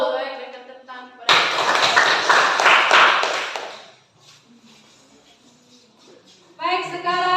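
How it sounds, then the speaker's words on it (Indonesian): A class applauds after a group presentation: a dense burst of clapping from many hands lasting about two and a half seconds, loud and close, with speech just before and after it. "Baik, berikan tepuk tangan kepada"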